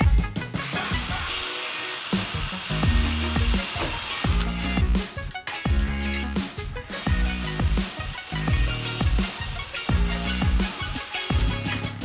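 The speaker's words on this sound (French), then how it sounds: "il faut déjà percer tous les coquillages" An electric drill bores holes through seashells, the motor whining in sustained bursts with short pauses and repeated bites into the shell, loud and close, with no talking.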